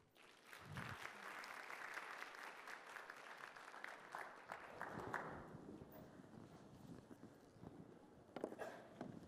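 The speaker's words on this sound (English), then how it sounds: "So please give me a hand in welcoming John to the stage." An audience claps to welcome a speaker onto the stage at a Talent Connect conference, dense steady applause swelling quickly and then fading out, with scattered claps near the end.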